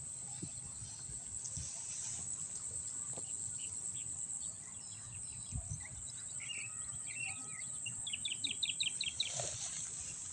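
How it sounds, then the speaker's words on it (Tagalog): Birdsong and insect chirps fill a quiet rural field, with crickets trilling steadily throughout and rapid repeated bird calls growing busier toward the end, all heard at a moderate distance with no voices. "Tahimik sa bukid. Puro ibon."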